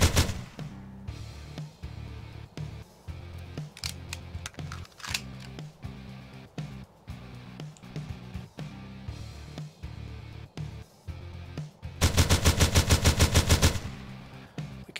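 Video-game gunfire from a self-made Unity shooter: a long string of sharp, spaced shots at a steady clip, ending in a fast, loud, continuous automatic burst.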